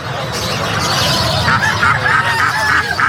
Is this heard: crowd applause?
no